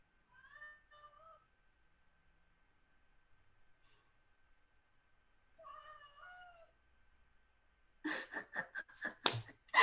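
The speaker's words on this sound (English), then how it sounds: "I'm hearing strange cat noises." Cat meows twice with short, rising calls at moderate volume. Then comes a loud burst of rapid caterwauling and yowling near the end. Quiet pauses fall between the sounds, and no one speaks.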